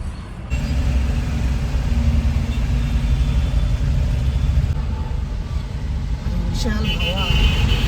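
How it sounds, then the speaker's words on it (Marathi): Heavy road traffic in Mumbai during the Ganesh festival, with cars, buses and trucks idling and crawling nearby in a continuous loud rumble, a few hissing brake sounds and a horn-like tone late on, under talk. "हे बघा ट्रॅफिक किती आहे भरपूर ट्रॅफिक लागली आज"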